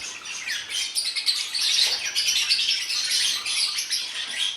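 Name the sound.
pet birds chirping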